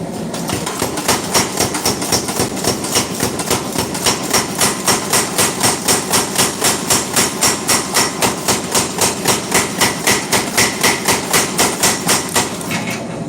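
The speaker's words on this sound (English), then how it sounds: "Forging a preform for probably another cleaver." Rhythmic, steady hammer blows shape a steel preform for a cleaver at a forge, striking loud and close at a quick even pace, roughly two or three per second, with no voices.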